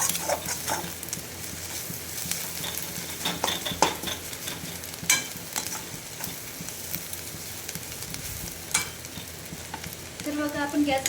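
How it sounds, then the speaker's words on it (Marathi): Vegetables stirred and sautéed in a pan for a summer vegetable dish, with a steady close sizzle and scraping strokes of a spoon recurring throughout, no talking. "परतून घ्यायची ती भाजी व्यवस्थित. आपण जेवढी परतली भाजी तेवढी छान होते."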